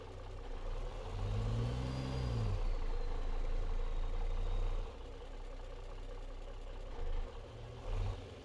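Heavy truck engine in American Truck Simulator, a low steady drone that swells with a revving rise around two seconds, then idles and settles, with small surges near the end.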